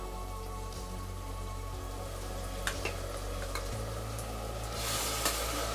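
Ginger garlic paste sizzles steadily in a hot frying pan for a prawn biryani, a constant crackling hiss with occasional scrapes as it is stirred.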